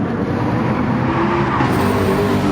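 A race car engine roars steadily at high revs in a multi-class race on the Deep Forest track in Gran Turismo 7, a loud continuous drone close by with no talking.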